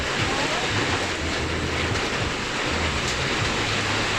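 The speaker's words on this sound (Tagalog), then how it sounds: "Lakas ang hangin, no?" Steady, heavy wind from a passing typhoon roars and buffets the microphone throughout, a constant rushing noise with low gusty rumbles.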